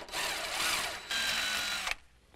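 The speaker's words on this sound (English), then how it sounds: "I'm just going to go ahead and drill these pilot holes first" A power drill bores pilot holes for a standard alternator install, two steady whining bursts of about a second each, close and fairly loud, with no talking.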